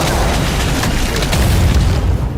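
A loud, close explosion from a Goku-style Soulfist attack in the game Lost Ark, a dense sustained boom and roar lasting a couple of seconds before easing off at the end.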